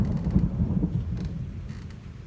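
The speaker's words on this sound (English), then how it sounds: "You hear the thunder. Yes, it is real thunder." Low rumbling thunder from a storm, recorded on a phone, rolling in soft irregular pulses that fade out over a couple of seconds, with a faint high whine near the end.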